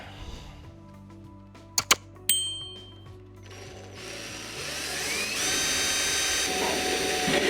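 A couple of sharp metallic clicks, then a drill whirs up and grinds steadily and close through a metal bracket, growing louder toward the end.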